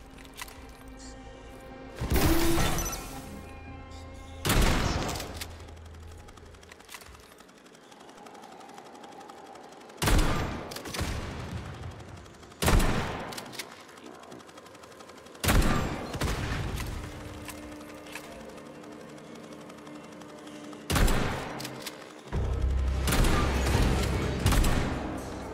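Gunfire in the video game Atomic Heart rings out in several loud, separate bursts and volleys, with quieter game ambience in the pauses between them.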